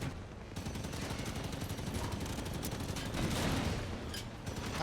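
Rapid gunfire from turrets in the video game Dungeon Lords rattles continuously, a dense and steady stream of shots throughout.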